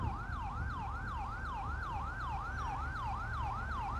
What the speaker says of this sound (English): open this road up a little bit to let the ambulance through